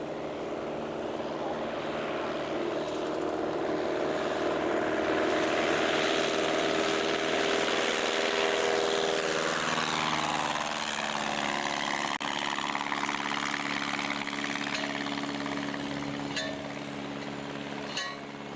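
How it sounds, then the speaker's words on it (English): A small propeller aircraft engine runs on a runway before a first test flight, a steady droning buzz that swells and shifts pitch partway through, fairly close, with faint voices mixed in. "Craig's on the runway. He all checked out and he's going to make his first test flight."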